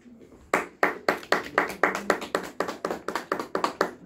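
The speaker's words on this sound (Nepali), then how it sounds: "उहाँलाई ताली बजाइदिनुहोस्" Rhythmic, evenly paced clapping in unison from an audience at a business-building meeting, about a dozen sharp claps in a row, close and clear with no talk over it.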